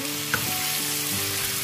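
Salt, garlic and white pepper are stir-fried in oil, giving a close, steady sizzle with a soft stirring scrape and one brief clink, and no one speaking.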